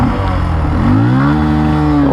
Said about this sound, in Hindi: ओहो, ये तो बहुत ही लाउड बाइक है, इसका साउंड क्वाइट अमेजिंग है।